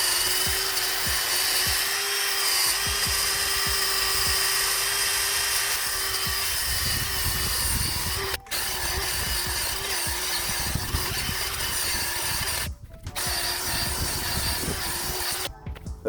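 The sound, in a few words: power drill with bit cleaning rust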